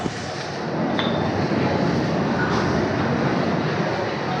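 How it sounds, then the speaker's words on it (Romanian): A train sits at a station in Italy, bound for Pistoia, giving a steady broadband rumble and hiss with a faint squeal, heard up close throughout. "Urmează să urcăm în tren către Pistoia. Ăsta e trenul."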